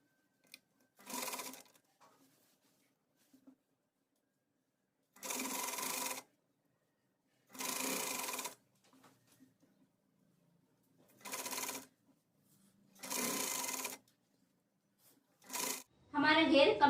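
A sewing machine stitches the gathered skirt of a circle frock at half-inch seam, running in several separate bursts of about a second each with quiet pauses between, close and fairly loud.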